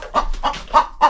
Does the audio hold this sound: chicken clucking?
yes